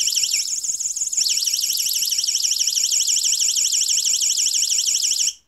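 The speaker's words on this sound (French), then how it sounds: "Voilà, le mode alarme." A Xiaomi NEXTOOL flashlight's alarm mode gives a loud, piercing electronic siren that warbles rapidly up and down without pause, starting with a slower sweep then settling into a fast, steady oscillation before cutting off.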